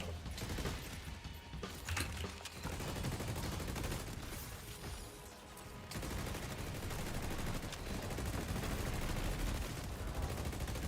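A gun fires in a video game, with quiet, rapid bursts of fully automatic shots broken by mechanical reload clicks.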